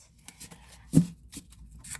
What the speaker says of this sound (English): Let's just do a quick shuffle